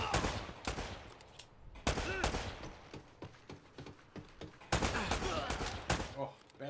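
Gunfire from the video game Uncharted: Drake's Fortune, with repeated sharp shots and short bursts amid the game's action sounds, fairly quiet overall.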